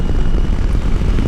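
KTM 890 Adventure R motorcycle engine running hard, a loud, close, steady low rumble with wind buffeting throughout, no voices.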